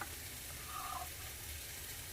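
Ground meat for egg roll filling sits in a pan releasing moisture, giving a faint, steady low sizzle and soft frying crackle with no voices.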